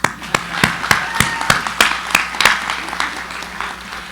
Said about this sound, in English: we got to clap on that.